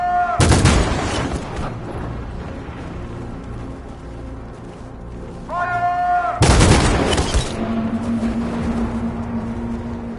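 Armed units open fire on protesters in the video game Detroit: two loud, sharp volleys of shots several seconds apart, each followed by a lingering ringing tone and rumble.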